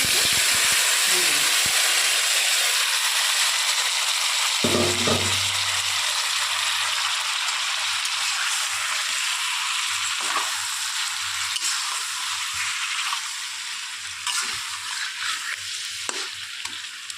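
Fish slowly sautéed with whole garam masala in a pan, a loud continuous sizzle and hiss close by, with intermittent stirring knocks and a low hum partway through.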